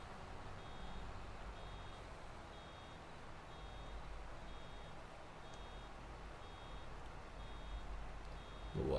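A vehicle reversing alarm in the farming game Farming Simulator 22, beeping steadily at a regular pace over a low engine rumble, moderately loud and continuous for the whole stretch.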